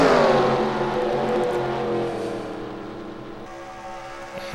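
ARCA series stock race cars roar past in a loud pack, their engine notes sweeping downward as they go by, then fading into a lower, steadier drone.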